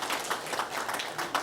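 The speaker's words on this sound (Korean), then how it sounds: "박수 한번 받자" A church congregation applauds, a soft, fairly quiet burst of scattered clapping spread through the room.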